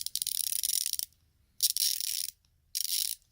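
A ratchet mechanism clicks in three quick bursts of dry, rapid ticking, close and distinct, separated by short silences.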